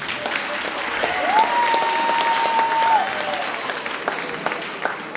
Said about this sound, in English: Give them a big round of applause for me.